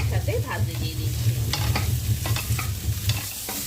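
Cauliflower and potatoes sizzle in a pan while a utensil stirs them, giving repeated scraping clacks over a steady frying hiss and a low hum, close up and without speech.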